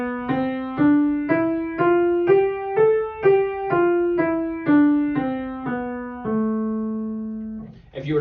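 A natural minor scale starting on A is played one note at a time in a steady, even rhythm, clearly ascending and then descending, loud and alone with no talking.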